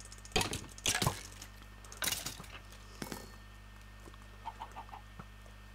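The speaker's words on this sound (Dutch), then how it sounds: "Hé, hey, nog een kip." Chickens clucking in Minecraft, a few short bursts of clucks and flaps near the start followed by quieter scattered clucks and soft steps.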